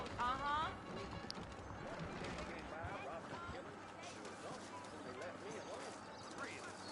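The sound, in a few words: saddled horses' hooves clip-clopping in Red Dead video game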